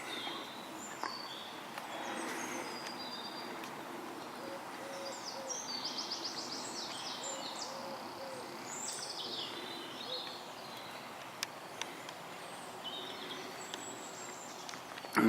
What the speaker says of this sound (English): Lots of bird song.